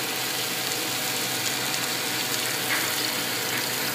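About two cups of beef stock pour onto vegetables in a pan for beef stroganoff, giving a steady, even splashing hiss that runs unbroken at moderate volume.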